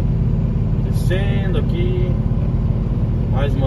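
A truck rolls downhill on a hilly road, driven in manual gear, with a steady loud engine and road rumble throughout. Someone talks over the engine noise.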